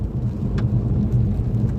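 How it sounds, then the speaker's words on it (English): Rain falling in Aberdeenshire after several days of snow: a loud, dense, steady wash of drops close by, with a low rumbling bed beneath and no voices. "So it's turned to rain just now, the first bit of rain we've seen in 3-4 days"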